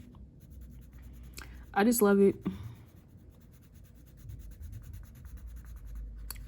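Soft scratchy rubbing of a coloring pencil on paper in short strokes, faint and close, with a brief spoken remark partway through.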